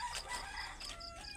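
Backyard chickens cluck and a rooster crows faintly in the morning, a short burst of farmyard bird calls, with no talking.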